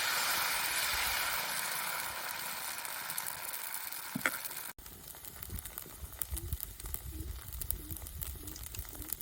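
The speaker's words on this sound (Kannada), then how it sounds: "ಸ್ವಲ್ಪ ಹಿಟ್ಟನ್ನು ಹಾಕಿ ದೋಸೆ ಮಾಡುವ" Jackfruit dosa batter sizzling on an iron pan, a steady dense hiss that cuts off abruptly midway, then continues as a lighter crackling patter.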